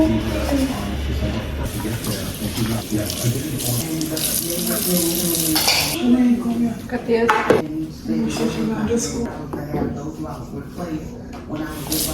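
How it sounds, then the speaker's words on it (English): Dishes, pots and pans clatter and clink as they are put away beside a running kitchen faucet and sink, with water noise steady throughout and close, loud handling under occasional talk. "I'm gonna put the dishes away first."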